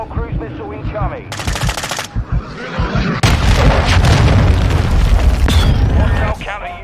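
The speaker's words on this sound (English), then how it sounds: "Hostile cruise missile incoming" Cruise missile strike in Modern Warfare 2 multiplayer: loud booming explosions and rumbling blasts mixed with automatic gunfire, with voices talking over the chaos.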